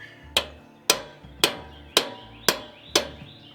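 A nut on a Coleman BT200X minibike takes six sharp metallic hammer strikes at an even pace, each ringing briefly before the next.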